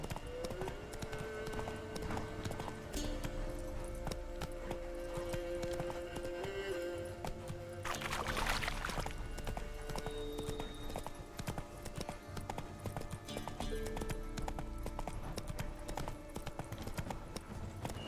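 Roach, Geralt's horse in The Witcher 3 game, clip-clops at a steady trotting rhythm for the whole stretch, hooves close and clear over ambient game music, with a brief louder burst midway.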